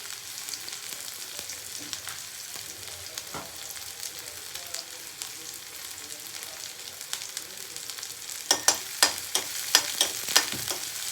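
Onions and green chilies fry in hot oil with a steady, even sizzle, and sharper crackles and spatters build up near the end, with no voices.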